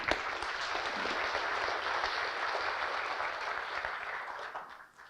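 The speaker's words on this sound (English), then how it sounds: "Give our student a round of applause." An audience at a university forum gives a sustained round of applause, many hands clapping in a steady, moderately loud wash that fades out near the end.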